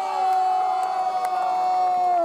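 A crowd at the Scotland Chili Festival at Scone Palace cheers and whoops for a chilli eating contestant, a steady, loud roar of voices with a sustained tone running through it.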